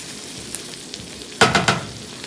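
Chorizo frying in a pan gives a quiet sizzle, broken by three quick, loud scrapes as a spatula parts the meat into sections.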